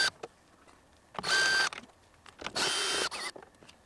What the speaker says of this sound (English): then a 10mm socket to remove the 3 nuts